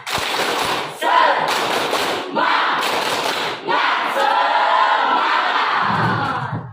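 A classroom of pupils performs the rhythmic 'tepuk semangat' spirit clap, loud bursts of group clapping broken by brief pauses, mixed with children chanting and shouting together.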